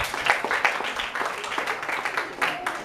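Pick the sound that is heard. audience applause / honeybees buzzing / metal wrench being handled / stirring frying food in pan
audience applause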